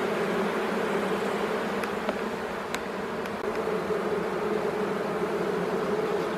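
Honey bees buzzing in a queenless colony, a dense, steady droning hum from many insects close by, with a few faint clicks over the continuous buzz.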